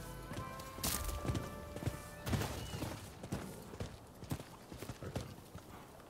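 Horse hooves clip-clop in the video game Rise of the Ronin, a rhythmic run of sharp knocks with irregular louder strikes over a soft background.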